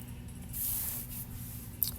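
Spray paint hissing onto 4x4 wooden posts laid on pavers outdoors, one short quiet burst from close by against a faint background.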